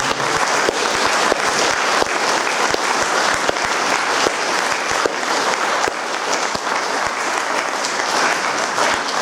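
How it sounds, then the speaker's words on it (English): An audience at a humanist society talk claps for the speaker Peter Atkins, sustained steady applause with distinct individual claps standing out, loud and continuous for several seconds. "will you please give Peter a round of applause"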